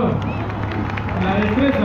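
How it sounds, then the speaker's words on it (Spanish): Crowd applause and cheering at a street parade during a motorcycle stunt show, a steady dense wash of clapping and babble filling the whole moment. "fuerte aplauso"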